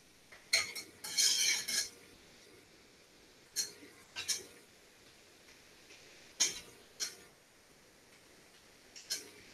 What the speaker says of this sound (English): So we're going to whisk these in.